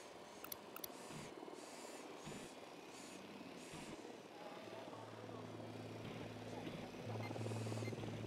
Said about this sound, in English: The drone is up.